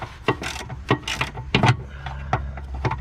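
A socket wrench ratchets in short, irregular bursts of clicks close to the microphone while loosening bolts on a Jeep, with brief pauses between strokes.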